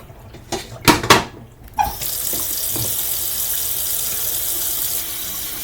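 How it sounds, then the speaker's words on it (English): Hot water running from a kitchen tap to rinse out a coffee pot, preceded by a few sharp clinks and knocks of handling, then a steady, close, continuous stream for several seconds. "I also always rinse the coffee pot out with hot water before I get the water for brewing coffee"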